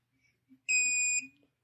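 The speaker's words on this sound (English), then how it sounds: "Once you hear that beep, you're about ready to go." A single short, high-pitched electronic beep, about half a second long, from an Autel diagnostic tool connecting to a Mercedes J-Box, sounding once in an otherwise quiet room.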